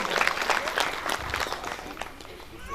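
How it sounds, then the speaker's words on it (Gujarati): A crowd at an outdoor Ram Katha gathering claps in a lively, uneven burst after a donation is announced, the applause fading toward the end with faint voices beneath. "તાળીના ગગડ સાથે બતાવો."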